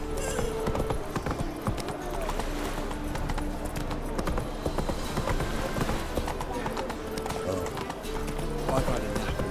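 Roach the horse gallops in The Witcher 3, a steady rapid clip-clop of hooves running on and on under voices and background game sound.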